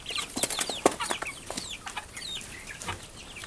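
Four-week-old meat bird chickens feed in a frenzy, with many overlapping clucks and peeps forming a dense, busy flock chatter at close range, with no talk.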